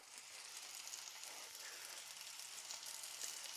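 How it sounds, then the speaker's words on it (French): Fish frying in olive oil in a pan, a faint, steady sizzle with a soft crackle throughout, ending in a sudden sharp clatter. "Ce poisson va cuire rapidement."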